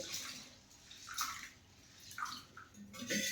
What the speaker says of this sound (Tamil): உளுந்தம்பருப்பையும் வெந்தயமும் சேர்த்து ஒன்றாவே கழுவிட்டு ஊற வச்சுருவோம்